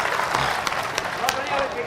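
Audience applause at a poetry mushaira in Bhopal, a short, steady burst of many hands clapping with crowd voices blended in.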